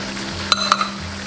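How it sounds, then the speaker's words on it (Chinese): Soaked rice stir-fried in a pan with diced carrot, soy sauce and salt, giving a soft, steady sizzle with a few sharp scraping clicks of the spatula against the pan in a brief burst. "全部给它翻炒均匀。"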